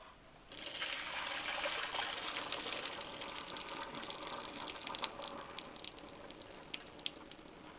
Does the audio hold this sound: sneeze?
no